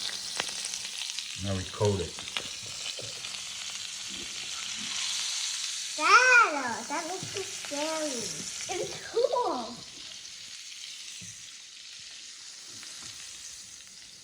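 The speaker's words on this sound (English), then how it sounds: "Now it's sizzling." Steady sizzle of butter frying in a pan runs under children and an adult talking, a constant hiss in a kitchen with occasional clatter.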